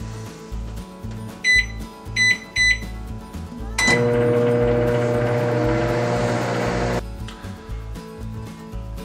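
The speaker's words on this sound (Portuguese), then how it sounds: "vamos levar ao micro-ondas em potência normal por 1 minuto para que o chocolate derreta" Three quick keypad beeps, then a microwave oven melting chocolate hums steadily for about three seconds before cutting off, close by with no talking.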